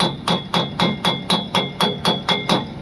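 A hammer strikes the metal of an Ursus 1201 tractor cab ten times in a steady rhythm, each blow ringing with a bright metallic clang, close and loud.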